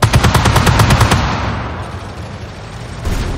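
Rapid bursts of automatic gunfire in a tactical military shooter game, loud and close for the first second, then fading into a rumbling wash with a softer shot near the end.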